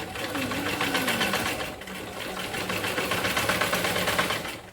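A sewing machine stitches a blouse neck piece in a tailoring class, a fast continuous mechanical whir and rattle running close and loud throughout.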